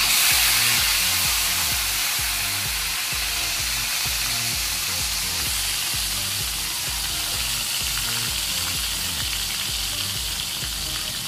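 Turmeric-coated potato pieces sizzle and crackle steadily in hot oil, a loud, continuous close-up frying hiss that runs alone without any voices.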